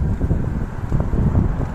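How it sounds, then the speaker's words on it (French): Strong wind buffets the microphone while mountain biking near Almeria, a steady loud low rumble that fills the short stretch with no voice. "le vent, il souffle, hein, et encore une fois, il ne m'est pas favorable"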